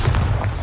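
A Bombarda spell explodes in Hogwarts Legacy, a short, dull booming thump with a muffled low rumble, close and brief.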